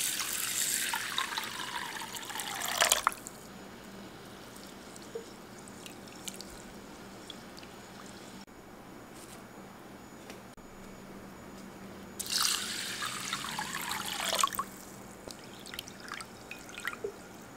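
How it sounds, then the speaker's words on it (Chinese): Round and long glutinous rice rinsed in a bowl of water in a home kitchen: two splashing, sloshing bursts of stirred and poured water, close and moderately loud, separated by a long quiet stretch. "把米都倒进来，然后清洗一下。"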